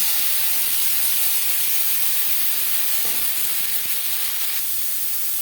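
Onion, tomato and garlic hitting hot oil left from frying fish for a Bengali fasha fish curry give a steady, dense sizzle with a faint hiss that carries on evenly throughout, with no talking.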